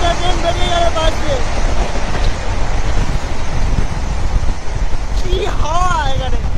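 A passenger train passes alongside on the way to Khirai, a steady roaring rumble with rushing wind filling the clip, heard from the open door of a moving train, with a person talking over it near the start and end.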